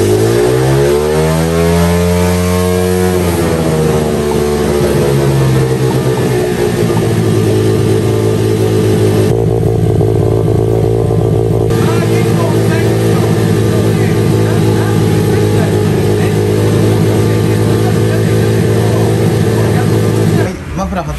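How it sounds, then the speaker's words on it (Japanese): A cheap auction-bought buggy, left out in the rain for ten years and fitted with a stock Honda Monkey muffler, runs loud and close, its pitch climbing as the engine revs before settling into a constant, buzzy drone. "ちょっとエンジンかけるよ。"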